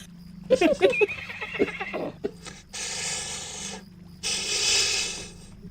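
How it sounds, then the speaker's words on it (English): A skeleton horse in Lord of the Rings Online gives a loud, wavering neigh, followed by two harsh rasping bursts of a second or so each, with no one talking over it. "skeleton horses."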